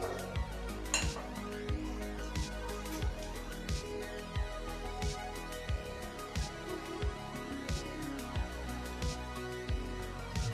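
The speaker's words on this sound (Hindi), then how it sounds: "अब हम इसे मैश करेंगे। चाहे तो आप इसे हाथ से कर सकते हैं, लेकिन मैं इसे कांटा चम्मच से कर रही हूँ।" A fork scrapes and clinks against a bowl as boiled potatoes are mashed for aloo tikki, steady repeated metallic taps and scrapes throughout, close and moderately loud with no talking.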